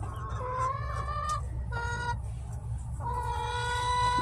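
Hens murmur and cluck inside a winterized coop on a cold morning, several drawn-out calls rising over a low steady hum, close and moderately quiet.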